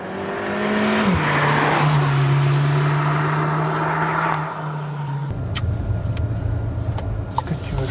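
A Volkswagen Polo 6 GTI's engine holds a steady loud drone while driving on a road test, then drops in pitch and shifts to a lower rumble with road noise.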